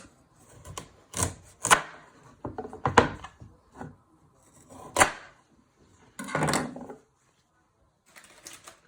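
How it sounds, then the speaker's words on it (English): A knife chops the ends off a carrot on a cutting board, giving a series of sharp, close knocks in an uneven rhythm with pauses between cuts. "You first chop your ends off your carrot."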